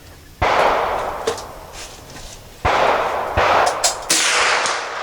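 Three loud rifle shots at a target, each a sharp crack with a long echoing tail, spaced a couple of seconds apart.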